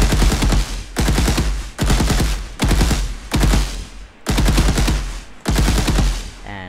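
Machine gun fire from a third-person shooter video game built in Unreal Engine, heard as six loud, sustained automatic bursts of about a second each, separated by short pauses.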